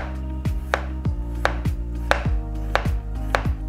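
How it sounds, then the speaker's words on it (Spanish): A knife slices a potato into very thin chip-style rounds on a cutting board, giving about ten sharp, evenly spaced chops, close and clear with no talk over them. "vamos a aplicar primero la técnica de cortes en chip, súper delgaditos"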